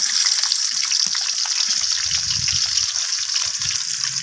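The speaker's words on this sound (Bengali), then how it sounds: "তো এখন আমি এই তেলটা গরম হয়ে গেলে আমি তেলের মধ্যে কেটে রাখা আলুগুলোকে লালচে করে ভেজে নেব" Cut potatoes frying in hot mustard oil in a wok, giving a steady close hiss and crackle with low occasional clatter from stirring throughout.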